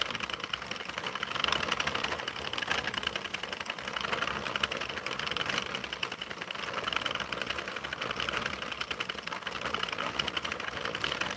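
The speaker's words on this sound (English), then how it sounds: "It's probably kind of boring just to sit here and watch me knit a scarf" 32-pin knitting machine knitting a scarf, a continuous fast mechanical clatter and whir at moderate level with slight swells in intensity, running steadily without talk.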